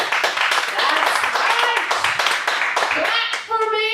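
Comedy club audience clapping for a stand-up comedian: a dense, steady patter of many hands, with voices and vocal sounds mixed in throughout.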